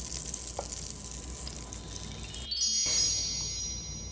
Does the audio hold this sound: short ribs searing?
yes